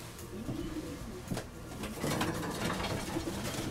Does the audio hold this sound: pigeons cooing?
yes